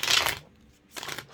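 Tarot cards are shuffled by hand up close in two quick riffling bursts separated by a short pause.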